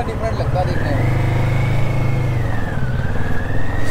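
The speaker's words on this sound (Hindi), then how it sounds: "सो भाई वल्कन की टेस्ट राइड ले रहे हैं।" Kawasaki Vulcan cruiser motorcycle on a test ride, its engine droning steadily close by and rising slightly in pitch as it pulls, with no talk over it.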